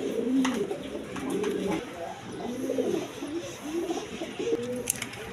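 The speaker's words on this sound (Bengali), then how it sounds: "এখানে এক পেয়ার কবুতর আছে, দেখেন বোম্বাই কবুতর" A pair of big yellow Bombay pigeons coo in repeated low, rolling phrases, close and steady, with faint voices in the background.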